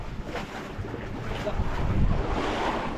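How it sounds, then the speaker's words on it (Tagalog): Big ocean waves wash around a boat at sea, a rushing surge of water and wind buffeting the microphone, swelling louder toward the middle and staying close and continuous. "ang lalaki po ng alon mga kasuyo"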